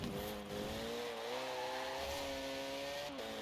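Race car in Forza Horizon 4 braking hard and dropping into second gear, a loud steady engine drone with a pitch dip and gear change near the end, tire noise underneath.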